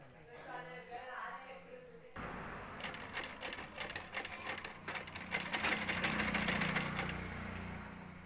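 A sewing machine stitches a blouse sleeve, its rapid mechanical chatter starting after a woman's brief speech and running close and steady with uneven bursts.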